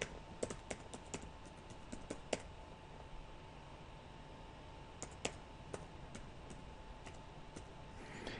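Someone types a file name on a computer keyboard, with scattered, uneven bursts of crisp key clicks over a quiet room hum and no voices.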